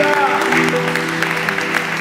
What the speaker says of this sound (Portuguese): Uma salva de palmas a Cristo Jesus